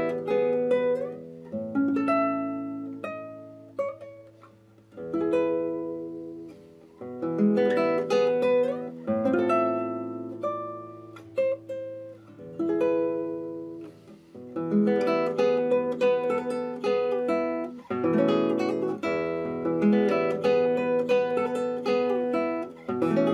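Classical guitar playing seven bars of Villa-Lobos Prelude 1, a continuous phrase of plucked notes and chords with a low melodic line, played up close at moderate volume with no talking.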